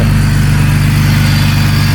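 A BMW E46 Touring, just fitted with a new radiator, runs with a loud, steady engine drone that sounds like it is idling after starting, with no voices.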